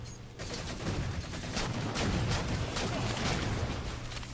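Dense, continuous gunfire from a Halo 4 match, rapid bursts blending into a steady loud rattle of shots and weapon effects throughout, with no talking.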